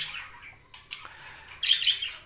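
A female jumbo budgerigar in a cage gives a few bright, high chirps. They start as soft tweets, then a louder burst of calls near the end.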